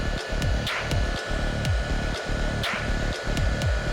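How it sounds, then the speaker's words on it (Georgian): A hair dryer runs close by with a steady broadband whoosh, with a motorcycle setting of a Yamaha R3, and repeated rhythmic low thumps and brief clicks recur about every half second underneath. "ფენიც ჩაგვირთო"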